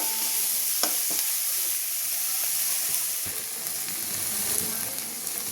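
Chopped onion and garlic sautéing in a pan with a dense, continuous close sizzle, broken by occasional clicks and scrapes of stirring.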